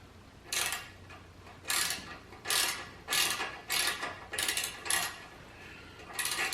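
A ratchet clicks as it backs out 1/4 inch hex bolts from a Harley-Davidson Sport Glide fender, in about nine short, close bursts of rapid pawl clicks separated by brief gaps.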